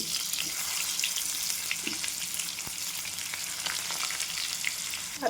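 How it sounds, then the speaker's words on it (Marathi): Chopped ridge gourd with mustard seeds, cumin and curry leaves sizzles steadily in hot oil, a continuous close frying crackle with a few brief stirring clicks and no talking. "थोडा कढीपत्ता आणि हा दोडका त्याच्यामध्ये सोडून घेते तेलामध्ये"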